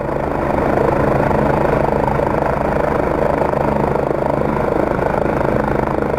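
A helicopter hovers and maneuvers during a rescue, its rotor producing a loud, steady, close-range drone with constant thumping that holds throughout.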